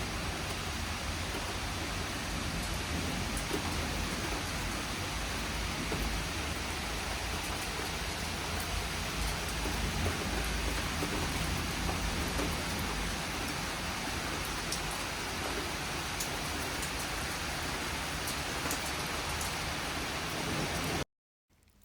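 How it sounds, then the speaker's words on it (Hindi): Steady rain falls outdoors as a dense, even hiss that continues without a break for about twenty seconds before stopping abruptly. "बारिश लगी हुई है, बहुत ही प्यारा लगता है जब बारिश हो रही होती है"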